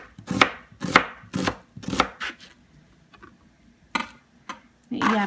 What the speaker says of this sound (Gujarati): ડુંગળીને સાવ ઝીણી આમ પીસીસ કરી